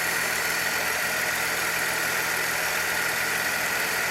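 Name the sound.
1966 Chevrolet C20 Chevy 292 engine idling, possible exhaust leak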